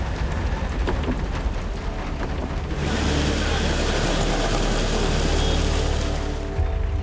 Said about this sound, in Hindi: मुंबई का बारिश का कोई भरोसा नहीं है,